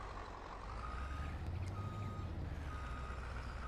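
A full truck reverses in Farming Simulator 22, its backup alarm beeping in a steady repeating pattern over a low, constant engine rumble.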